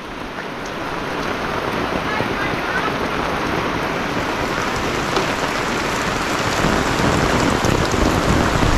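Heavy rain pours continuously on an ampalaya (bitter gourd) farm, a dense, loud, unbroken hiss on the surfaces with faint talk beneath.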